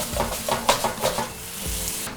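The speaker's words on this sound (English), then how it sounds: "There's a little sizzle for you." White wine sizzling as it hits a hot pan over medium-high heat while risotto rice is stirred, with a steady frying hiss and soft scraping stir strokes close up.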